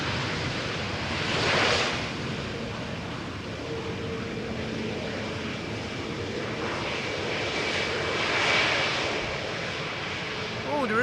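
A Pegasus airliner arriving at Schiphol's Polderbaan runway, its engines a steady broad roar that swells and recedes across the scene, heard from a distance outdoors.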